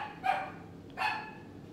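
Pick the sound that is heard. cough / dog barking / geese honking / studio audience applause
dog barking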